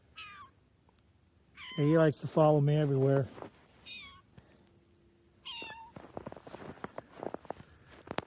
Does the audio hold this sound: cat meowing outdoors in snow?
yes